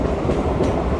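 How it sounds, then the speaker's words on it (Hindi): Train running on rails during a Dooars journey from Siliguri toward Malbazar, a brief loud rumbling roll of wheels heard from inside the carriage. "ये तो मालबाजार में बीच में थोड़ा ट्रेन का जर्नी एंजॉय कीजिए"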